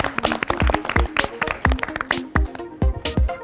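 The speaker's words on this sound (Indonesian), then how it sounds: "Jadi kita aplaus untuk 4 besar kita." An audience claps for the top four semifinalists at a design competition. The clapping is brisk and fairly close, with distinct individual claps in a quick, uneven patter.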